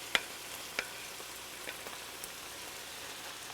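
Peppers frying in a pan for an Italian peperonata, a soft steady sizzle crackling low throughout with a couple of sharper pops near the start, no talking.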